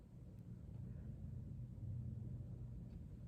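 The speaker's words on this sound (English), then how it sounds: "I think it's a car." Low, steady rumble of a car passing by outdoors, a muffled broadband drone that swells slightly and then eases, heard faintly from a distance with no speech over it.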